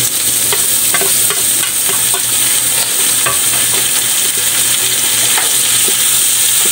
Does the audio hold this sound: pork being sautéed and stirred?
yes